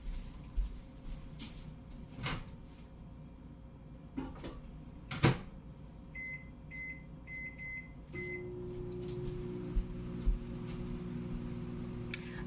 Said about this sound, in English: Back in the microwave it goes.